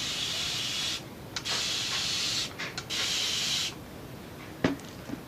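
A water spray bottle hisses in several bursts, long sprays separated by short pauses, close by, followed by a faint tap near the end.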